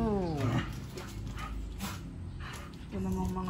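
Dogs bark outdoors in a few short bursts, fairly near, amid background voices and rural ambience.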